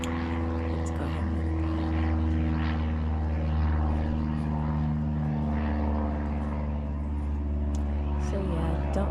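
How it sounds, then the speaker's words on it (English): A propeller airplane flying overhead during an outdoor spring walk, a loud, continuous droning engine roar with a deep, steady hum that holds throughout the clip. "there's an airplane going above us"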